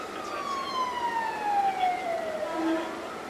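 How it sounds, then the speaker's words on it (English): An ambulance siren wails, sweeping steadily downward in pitch, fairly loud and continuous, as it passes nearby on a street. "Oh, we got an ambulance."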